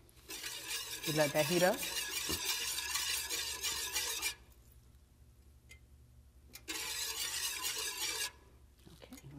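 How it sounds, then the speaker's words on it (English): A whisk scrapes briskly through milk and sugar in a pot, two loud stretches of rapid, steady swishing split by a quieter pause, with a short spoken remark near the end. "And then you whisk together."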